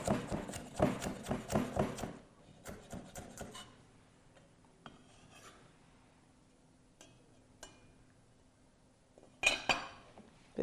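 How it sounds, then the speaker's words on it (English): A knife finely slices red pepper and cucumber on a board: a fast run of crisp chopping taps first, then sparse, quieter cuts and a few louder chops at the end. "I want everything to be really nicely, finely sliced."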